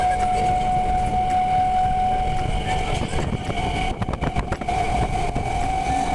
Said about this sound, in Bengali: আর এই যে দেখো ট্রেনটা কতটা স্পিডে যাচ্ছে